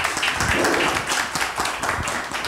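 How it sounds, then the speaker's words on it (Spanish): Applause and clapping from a crowd greeting Frank Paulino, a deputy, at a local event in La Cuchilla, dense and steady throughout with faint voices mixed in. "El aplauso que se sienta para Frank Paulino."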